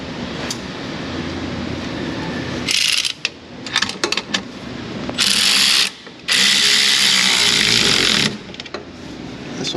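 A ratchet wrench tightens bolts on an amp step bracket mounted to a vehicle's pinch weld, giving several close bursts of rapid clicking separated by short pauses and quieter handling noises.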